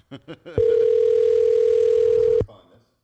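A telephone dial tone sounds while a business is called, a steady unbroken hum lasting about two seconds, loud and close, preceded by brief voices and followed by a soft click.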